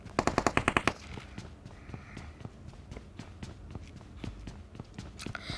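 Rapid automatic gunfire from the video game PUBG, a tight burst of loud shots at the start followed by scattered single shots and footstep-like thuds over ambient game noise.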